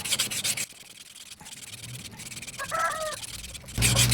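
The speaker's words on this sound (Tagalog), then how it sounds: "lihain mo ng ganitong liha na medyo magaspang" Rough, scratchy rubbing of coarse sandpaper in uneven strokes during an electric fan repair, close by, with brief louder bursts at the start and end.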